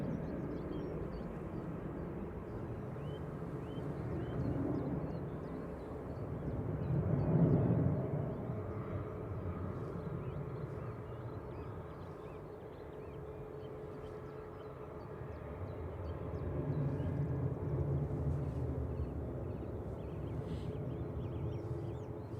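A Hainan Airlines airliner on approach to Manchester Airport makes a broad, distant engine rumble that swells twice as it passes, with no one speaking.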